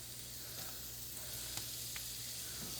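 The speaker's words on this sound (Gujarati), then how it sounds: "હવે મસ્ત સાંતળે જવાનું, કેમ કે આર્યું ગાજર ને જલ્દી ચડતું નહીં" Carrots and other vegetables sauté in a pan with a steady, soft sizzling hiss and a few faint stirring clicks, close by and alone.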